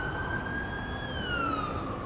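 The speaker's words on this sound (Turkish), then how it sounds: "Aa ambulans geliyor." Ambulance siren in the Hello Neighbor video game, a steady wailing tone that slides slowly downward as if passing by, loud and alone with no talking.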